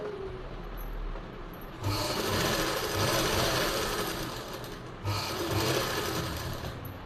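A sewing machine stitches the lining of a blouse in two runs of fast, even whirring, loud and close, with a brief pause between them and no talking.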